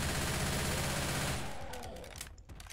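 An Uzi submachine gun in Left 4 Dead 2 fires in a loud, dense automatic burst up close, then the stream breaks into a few scattered, quieter shots before trailing off.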